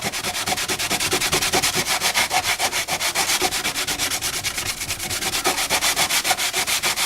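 A hard sanding block with sandpaper rubs rapidly back and forth over a cyanoacrylate and carbon repair on a Ducati track-bike fairing, a loud, close, rhythmic scratchy rasp of fast even strokes with no talk.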